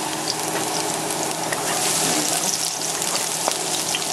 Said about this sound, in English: we'll go ahead and add the garlic